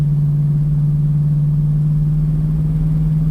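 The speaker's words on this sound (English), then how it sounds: "So the exhaust is through the mufflers now." A Plymouth Barracuda's Hemi V8 engine idling through its mufflers with a steady, deep, muffled rumble, smooth and constant throughout, close by with no talking.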